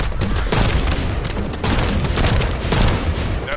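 Dense rapid gunfire from the video game The First Descendant, a continuous crackling volley of overlapping shots at steady loudness throughout, with no voices.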